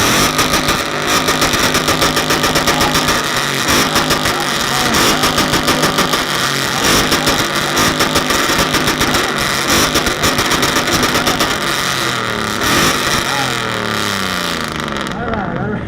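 A loud Ford Mustang exhaust at a car meet's loudest-exhaust contest fires in rapid, choppy revs over a rumbling idle for a sustained stretch, close and dominant, with people talking faintly in the background.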